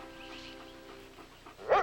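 A single dog bark close by near the end of a cartoon episode scene, a short yelping burst following a quiet stretch of soft background tones.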